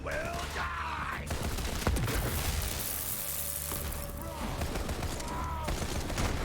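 Rapid gunfire from a gun in the video game Borderlands 3 on PC, dense bursts and booms packed together, loud and continuous with in-game sound effects around them.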